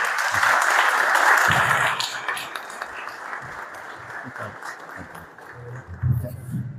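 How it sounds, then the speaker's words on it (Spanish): An audience applauds in a hall to welcome José Carlos, a speaker at a Bible faith school evening, with dense, loud clapping for about two seconds that then thins and fades, while low murmurs and voices continue underneath. "Y se lo agradecemos con un fuerte aplauso, por favor."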